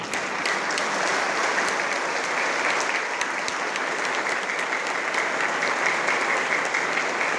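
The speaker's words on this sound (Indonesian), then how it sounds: "kasih tepuk tangan yang paling keras" A large graduation audience applauds the parents with a sustained, roaring wash of clapping that stays loud and even from start to finish in a big hall.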